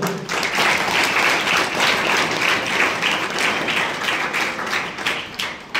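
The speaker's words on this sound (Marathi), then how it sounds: "त्या सर्वांचंही मी आपल्या सर्वांच्या वतीनं टाळ्या वाजवून स्वागत करतो." A school audience gathered for a birthday lecture claps continuously to welcome parents and teachers, a dense, loud, even round of applause lasting throughout and ending abruptly.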